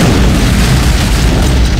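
Antimatter charge detonating aboard a spaceship in the shooter game Halo: Combat Evolved, a loud sustained low boom and rumble filling the whole moment, heard alone without speech.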